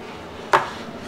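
A very blunt knife chops through corn on a board: a single sharp, dull knock that fades quickly, close and alone in a quiet room.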